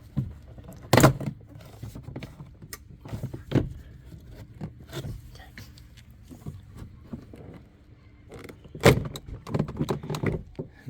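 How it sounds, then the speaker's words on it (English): Plastic clips popping loose as a Suzuki Kizashi door panel is pried off, two sharp cracks standing out near the start and end with scattered smaller clicks and scrapes between them, close up and without talk. "Now as I'm prying out, I'm gonna lift up because usually it hangs on a lip up here."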